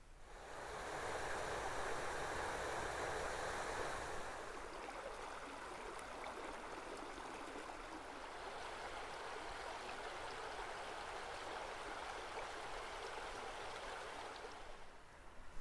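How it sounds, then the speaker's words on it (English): The Sipsey River in Alabama flows with a steady, broad rushing wash of water, constant and fairly close, with no voices over it. "We are to the Sipsey River."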